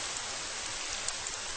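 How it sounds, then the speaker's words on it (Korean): Steady rain sound effect for a Korean radio drama reading of Son Chang-seop's story 'Rainy Day', a dense, even hiss of falling rain heard alone and close, with no voices. "차차 거세가는 빗소리와 도랑물 소리뿐."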